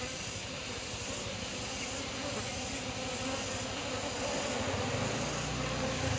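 A dense, steady buzzing of many bees in a hive box, including drones, fills the space, close and continuous, with a faint low hum underneath.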